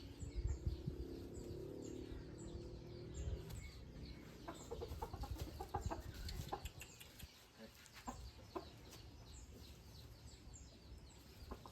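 Fighting roosters of the Burmese game-fowl type crowing and clucking on a breeding farm, with bird calls repeating close by over steady background rustle and a few sharp knocks.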